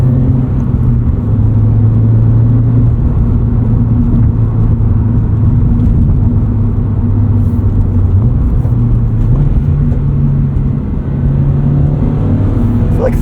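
Subaru BRZ flat-four engine (2014 and 2022 models compared) revving loudly and steadily from inside the cabin, with a continuous throaty drone and rising and falling pitch, no talking.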